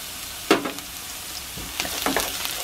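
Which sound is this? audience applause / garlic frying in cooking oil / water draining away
garlic frying in cooking oil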